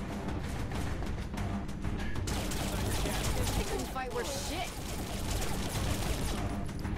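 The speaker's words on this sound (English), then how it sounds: "konačno malo pucanje" Rapid gunfire from Saints Row 4 rattles in sustained bursts amid a busy game mix of impacts and effects, with someone talking over much of it.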